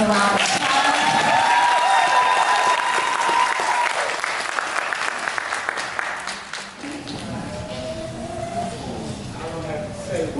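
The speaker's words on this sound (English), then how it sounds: "Let's give all the graduates another round of applause." A graduation ceremony audience at Beaver Beauty Academy's fall 2018 graduation gives a sustained, loud round of applause that fills the room, easing off in the final seconds as other sounds take over.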